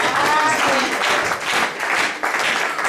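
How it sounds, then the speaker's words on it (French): Church congregation applauding and cheering at a sermon, a loud, sustained wash of clapping throughout with voices mixed in. "Est-ce qu'on peut acclamer pour les rois des gloires?"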